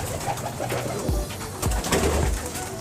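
Soft, low pigeon coos repeat in a loose rhythm, close by, over a busy background of fluttering and rustling.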